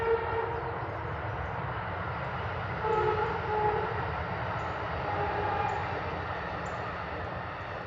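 A passing train rumbles steadily in the background, a continuous low roar with faint tonal squeals, moderately distant and without talk.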